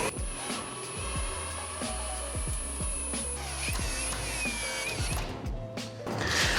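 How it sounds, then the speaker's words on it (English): A drill grinds into metal on a Jeep parts cleaner in short bursts, whining and rattling with irregular clunks, up close, and no one speaking. "All I have to do is drill through the metal."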